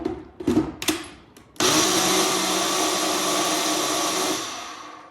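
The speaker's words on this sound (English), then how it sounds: "we're gonna blend it so it's gonna get just a little bit loud" A few short clunks and bumps, then a blender blending a latte drink switches on and whirs loudly and steadily for several seconds before starting to wind down.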